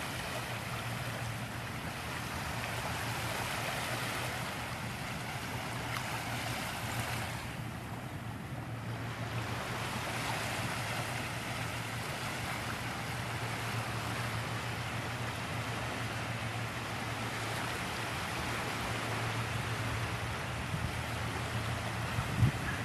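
Steady surf rolls in on Fort Myers Beach on a morning walk, a continuous wash of waves mixed with wind buffeting the microphone, with no voices.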